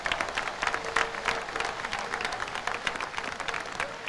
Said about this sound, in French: on fait une pour applaudir Haïti